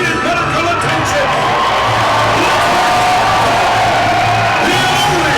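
Loud, sustained cheering, whooping and shouting from a large audience at a Star Wars Celebration panel for Anthony Daniels, a steady roar of crowd noise filling the whole stretch.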